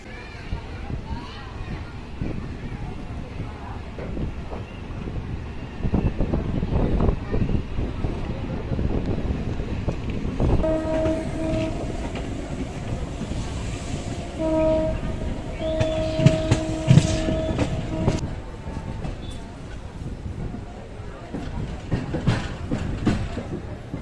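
A MEMU local train between Chennai and Tirupati rumbles and rattles steadily along the tracks, with wind buffeting the microphone and a few sustained horn-like tones partway through.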